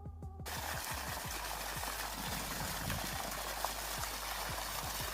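Water gushing from a mulberry tree in the town of Dinoša, Montenegro, a constant faint rushing and bubbling with soft irregular ticks running throughout.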